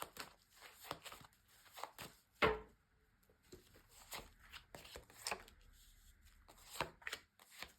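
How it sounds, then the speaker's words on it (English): Tarot cards are shuffled quietly and close by, with repeated soft riffling bursts and small taps spread irregularly throughout. "So first of all, a good shuffle."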